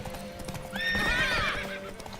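A horse in The Witcher 3 video game gives a loud, high whinny in the middle, framed by steady clip-clop of hooves and a faint background hum.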